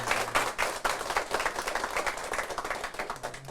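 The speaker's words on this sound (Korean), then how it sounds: "박수로 맞아주시기 바랍니다." An audience applauds steadily, a dense patter of many hands clapping at an even level throughout.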